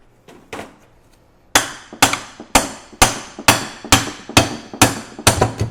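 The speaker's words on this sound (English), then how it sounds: "I'm gonna go grab my brass hammer." A run of about ten sharp metallic brass hammer blows on a Land Cruiser 100 Series front axle part in a steady rhythm, loud and close, after a few softer taps.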